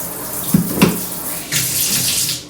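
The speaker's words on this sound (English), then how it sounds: "And then I just have this faucet that is detachable." A detachable kitchen sink faucet runs water into a deep undermount split sink, a steady hiss that swells after a couple of soft knocks and continues nearby.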